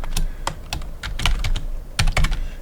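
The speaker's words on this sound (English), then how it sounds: "I'm going to type in super clean" Close fingers tap quick clusters of keystrokes on a computer keyboard, with a burst, a short pause and another flurry of clicks.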